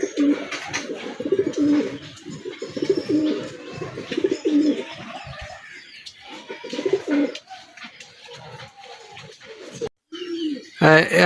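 Blue Kamagar and Oman Teddy pigeons coo repeatedly in low, throaty bursts close by, with a person talking intermittently over them.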